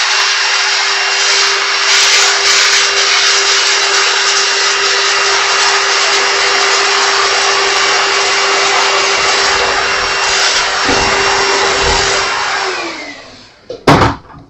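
A vacuum cleaner runs loud and steady on an Epiphone Les Paul during fret leveling, a constant whining motor hum for about thirteen seconds before it winds down and shuts off with a few clunks.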